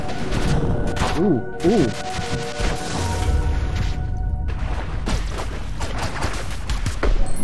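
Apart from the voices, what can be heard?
shooting in the video game Owlboy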